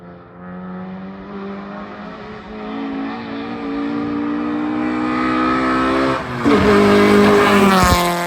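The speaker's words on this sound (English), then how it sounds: "I can still hear that car in the distance. I did not know that car was that loud." Mazda Miata engine droning steadily as it drives some distance away, a sustained harmonic whine that slowly rises in pitch and swells louder toward the end, heard alone without voices.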